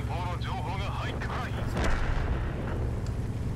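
A tank gun fires once in World of Tanks, a sharp boom under game background rumble, preceded by a short whistling tone.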